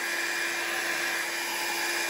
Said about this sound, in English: I let my dryer just blow on the ink